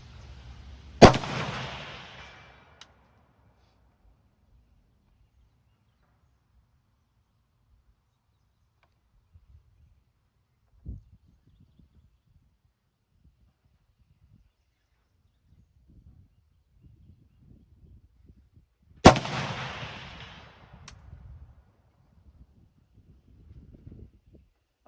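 A Romanian PSL 7.62 mm semiautomatic sniper rifle fires two loud, sharp shots about eighteen seconds apart, each with a short echoing tail, while a faint knock and small handling noises sit between them outdoors.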